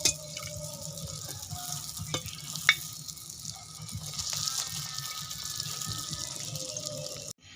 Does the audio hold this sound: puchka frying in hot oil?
yes